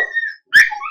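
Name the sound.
dogs whimpering and crying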